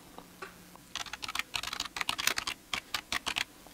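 Keys clatter on a computer keyboard as a search is typed, a brief quiet start followed by quick, uneven bursts of close, crisp keystrokes.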